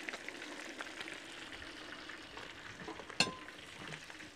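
Mojarra fish frying in hot oil, a steady broadband sizzle throughout with a sharp clatter or splash near the end as more fish goes into the pan.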